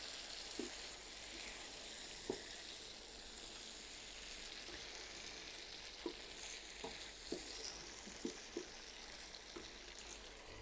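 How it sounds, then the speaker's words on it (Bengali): Potatoes and green peas frying in a pan for a curry, a steady soft sizzle with occasional light scrapes and taps of a stirring spoon, faint and close. "এই সবজিগুলো আমি খুব ভালো করে কষিয়ে নিব।"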